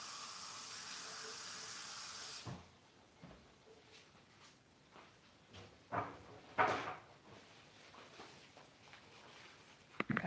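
A tap runs steadily for a few seconds of hand washing, then stops, followed by scattered knocks and clatters nearby, with no talk.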